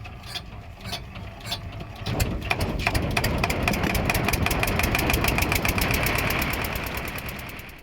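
A motorboat engine starts up and runs with a loud, rapid, regular knocking beat, steady and close for several seconds.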